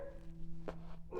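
A dog barks twice in short bursts, somewhat distant, over a steady low background hum.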